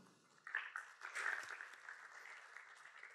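Audience applause greets a medal winner at the Mobius tech conference awards. It is fairly faint and distant, rising quickly after a brief quiet moment, then holding as a steady patter of clapping.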